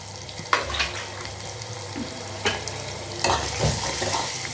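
Onions sizzle and fry in a pan with scattered scraping stir strokes and clinks, no talking.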